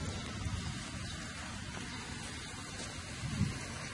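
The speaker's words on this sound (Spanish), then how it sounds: "Esperemos que pare la lluvia" Steady rain falls outdoors in a soft, even hiss, with a couple of faint low thuds rising briefly above it.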